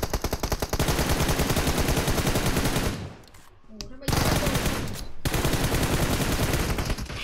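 Rapid automatic gunfire in a PUBG Mobile match, loud dense bursts of machine-gun fire that break off briefly in the middle and then resume just as hard.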